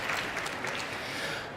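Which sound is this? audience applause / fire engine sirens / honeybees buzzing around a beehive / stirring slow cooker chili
audience applause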